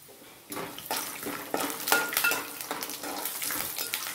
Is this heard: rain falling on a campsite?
no